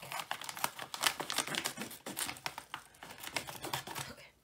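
Crinkling and tearing of a paper bag of sugar being struggled open close up, a busy stream of small rustles and rips with no talking.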